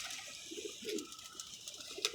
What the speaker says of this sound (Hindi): लो जी, ये देखें कबूतर, मज़ा आएगा देख के आप भाइयों को।